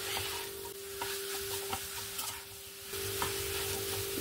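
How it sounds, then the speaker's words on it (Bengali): Coconut filling for patishapta pitha being stirred in a pan, with a steady scraping stir and soft sizzling going on continuously, no voices over it. "ভালো করে মিক্স করে নিই।"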